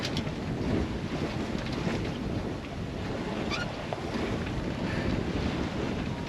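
Steady roaring wind gust over a Morgan 382 sailboat under sail at sea, continuous broadband rush with buffeting on the microphone and water wash beneath, no voices.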